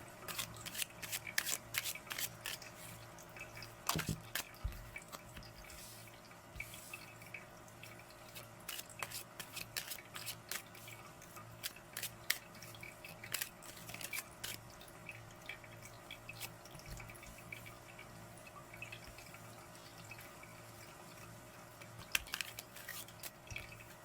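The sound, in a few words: shuffling divination cards for a card draw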